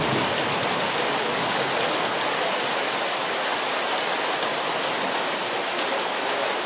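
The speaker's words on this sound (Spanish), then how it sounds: "en medio de esta lluvia acá en Córdoba" Steady rain falling in Córdoba, a dense, even hiss of drops with no break, close and fairly loud, with no voices.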